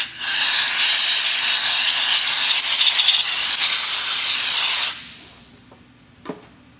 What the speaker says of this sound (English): we'll just give the bottom plate here a quick wipe just to get any dirt and debris off of it